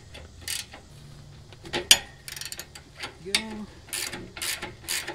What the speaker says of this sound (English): Let's try a double wrench.